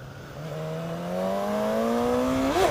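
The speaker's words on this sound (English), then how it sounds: "I'm just going to enjoy a bit of on-ramp acceleration first." A Suzuki GSX-S1000 motorcycle pulls hard on a highway on-ramp, its engine note climbing steadily in pitch and loudness, then blipping sharply at a gear change near the end.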